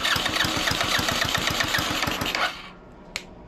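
A GY6 engine mounted on a homemade run stand runs with a loud, rapid putter for a couple of seconds, then cuts out to near quiet with a single small knock.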